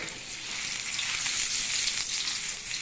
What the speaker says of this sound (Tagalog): pag kayo nagigisa, ano po ba yung inuuna nyo? luya, sibuyas, bawang.